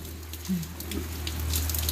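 Rain falls on a house rooftop, a steady soft patter of drops with a low hum underneath and no clear talking.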